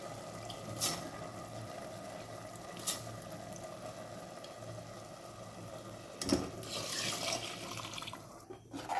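Water is poured into a cooking pot over rice and lentils for a spiced rice dish, a steady close rushing splash lasting several seconds with a few brief clinks and a louder burst near the end.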